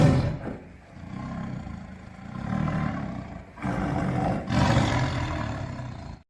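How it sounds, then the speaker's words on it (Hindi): A lion gives several loud, deep, growling roars in a row with short breaks between them, close and unaccompanied by talk. "शेर डर गया और गुस्से में दहाड़ते हुए वहां से भाग गया"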